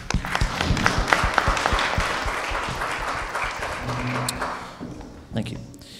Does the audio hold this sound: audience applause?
yes